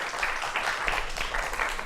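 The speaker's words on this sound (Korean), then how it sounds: "오늘의 주인공 두 분을 모시도록 하겠습니다. 박수로 맞이해 주십시오." An audience applauds as two guests are welcomed onto a Korean TV lecture programme; a steady, moderately loud wash of clapping fills the full short stretch without a break.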